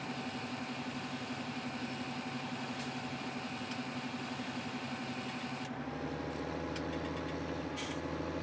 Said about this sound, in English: he reached the overload point and he's emptying into the trailer